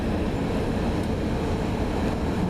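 CN freight train M342, led by locomotive 3131 at Ladysmith, rumbles past with a steady, loud low roar of rolling wagons, no voices heard.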